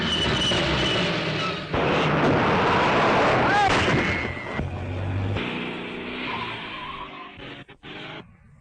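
Car chase in a 1937 Sherlock Holmes film: a continuous engine roar and rumble with bursts of gunfire and sharp cracks throughout, loud and dense, fading toward the end, with voices briefly under the noise.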